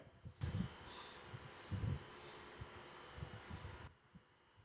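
A person breathes deeply in and out while holding a yoga mudra, slow rhythmic breaths close to the microphone with soft hissing airflow repeating several times, then quiet.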